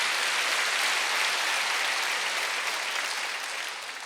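A church congregation at a Wednesday worship service breaks into loud, dense applause, many hands clapping together and filling the room before tapering slightly at the end.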